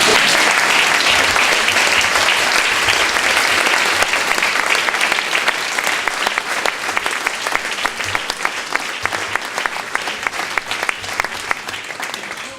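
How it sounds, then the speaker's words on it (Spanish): A crowd at a political memorial event in a Madrid arts hall applauds continuously, a dense, loud wash of clapping that holds steady throughout and thins only slightly toward the end. "vuélvanla a aplaudir."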